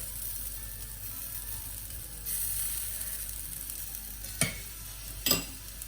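Chickpea batter cooks on a hot pan with a faint steady sizzle, then two short scraping knocks as it is spread, near and quiet overall.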